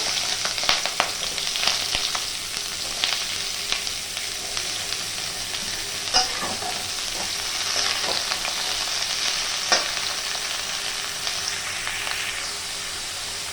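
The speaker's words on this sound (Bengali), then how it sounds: "তেলটা গরম হয়ে গেছে, এবার কেটে রাখা চিচিঙ্গাগুলো দিয়ে দেবো।" Chopped snake gourd frying in hot oil in a kadai, a steady close hiss of sizzling with occasional stirring scrapes and clinks throughout, no voices.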